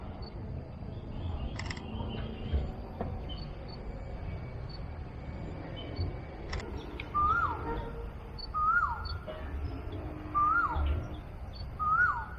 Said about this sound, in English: Oh, that sounds like the kingfisher,